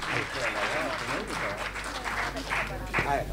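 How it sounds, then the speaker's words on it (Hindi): Audience applause at a kavi sammelan poetry recital in Mumbai, steady clapping throughout with voices and crowd chatter mixed in over a continuous low hum. "जोरदार तालियां बजाइए भाई उदय भानु जी को।"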